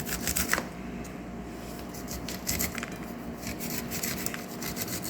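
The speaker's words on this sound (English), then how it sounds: "We're going to cut the corn here like this" Knife slicing kernels off fresh corn cobs onto a plate, a steady close run of scraping, rasping strokes with crisp, papery crackle and no talking.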